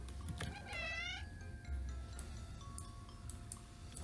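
Kittens meow in an itch.io Halloween video game, one clear rising and falling mewing call near the start followed by softer, steadier tones and light ticking game effects.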